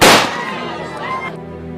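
A single loud gunshot in a tense police standoff scene cracks at the start, then rings and decays over the next second and a half with no voices.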